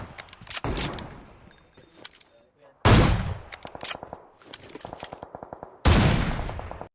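Sniper rifle shots in the mobile game BGMI, with three sharp loud cracks spaced a few seconds apart, each trailing off, among fainter clicks and game effects.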